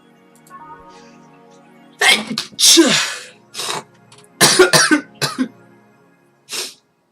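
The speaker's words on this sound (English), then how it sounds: "Sneezing my brains out the whole time." Several sharp, explosive sneezes burst out in quick succession, one of them doubled, with brief pauses and faint murmuring between them.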